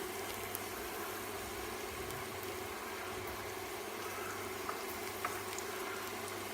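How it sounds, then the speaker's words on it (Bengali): A tablespoon of chopped garlic fries in hot oil in a pan, a soft, steady hiss of sizzling that holds evenly throughout with no talking. "রসুন কুচি প্যানে দিয়ে দিলাম"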